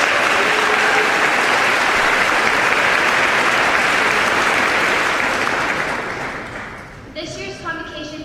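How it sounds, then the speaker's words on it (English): Broad, sustained applause from an audience after a choir's rendition of Lift Every Voice and Sing at a convocation, loud and steady for several seconds before fading into a brief moment of hall noise. "Let's give them another round of applause."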